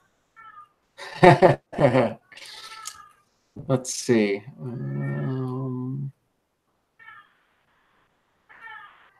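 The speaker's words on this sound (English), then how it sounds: "got a howling kitty in the background." A cat howls in the background during a live astronomy broadcast, giving a sustained, wavering yowl after short bursts of meowing, with brief talk around it.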